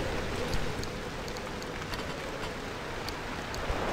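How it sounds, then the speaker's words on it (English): Steady rain falling in the video game Pacific Drive, a soft continuous patter with scattered brighter droplet ticks, fairly quiet and alone throughout. "It's raining."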